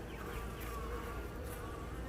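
A dense, steady hum of honeybees buzzing as they feed, close and fairly quiet, with no voices over it.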